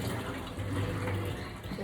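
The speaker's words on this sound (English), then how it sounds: "I'm going to now fill it up" Cold water running steadily from a tap into a container, a continuous close rushing splash.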